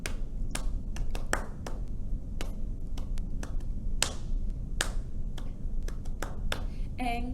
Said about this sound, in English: Did you make it all the way through all those claps?